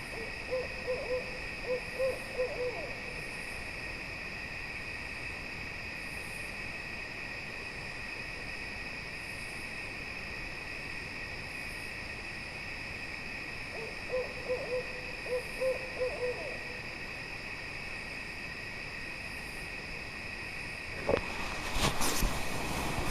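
An owl hoots in two short bursts of soft, low calls, spaced well apart, over a steady hum of night insects during an overnight hammock camp; a brief rustle at the end.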